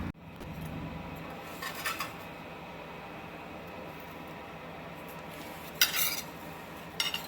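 Paratha patties being lifted out and dished onto a plate, a few scattered metallic clinks and scrapes over a steady background hiss, close by.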